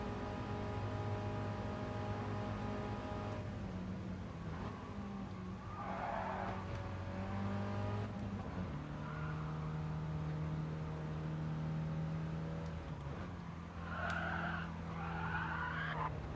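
Race car engine in a racing video game holds steady droning harmonics through the gears, with brief tire skids and squeals breaking in near the middle and end, loud and continuous with no talk.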